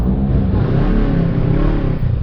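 A big bike motorcycle engine revs loudly and close, a continuous throaty growl holding steady throughout, heard on the Mindoro leg of an inter-island ride from Batangas.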